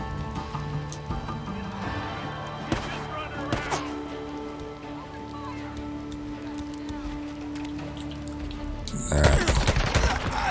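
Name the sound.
pistol gunshots in the video game Days Gone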